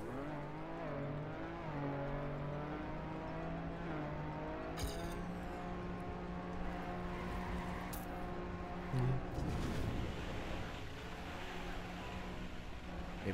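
A rally car slides with almost no grip in TrackMania, its engine droning steadily with shifting revs and brief tire squeals and scraping bursts, the motor close and continuous throughout.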